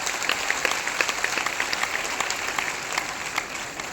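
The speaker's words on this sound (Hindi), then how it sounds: "इसके लिए एक बार जबरदस्त ताली होना चाहिए" Audience clapping at a DXN meeting, steady moderately loud applause with crisp individual claps standing out in a brisk, even patter.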